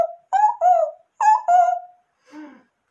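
Owls hooting and screeching as a storytelling sound effect, a few loud, close hooting calls in two pairs, followed by a softer, rougher cry after a pause.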